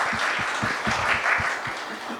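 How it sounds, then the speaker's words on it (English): Audience applause at a national human development report launch, a steady wash of clapping from a modest crowd with distinct individual claps standing out near the front, continuing evenly throughout. "Please give him a round of applause"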